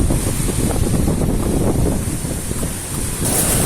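Strong wind roars steadily across the microphone on a fishing trip, a loud continuous rumble with a hissing edge that never lets up.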